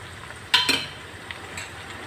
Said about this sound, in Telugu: ఉల్లిపాయ ముక్కలు కొంచెం వేగినాయి కదండి దీనిలోకి టమాటా ముక్కలు కూడా యాడ్ చేసుకున్నాం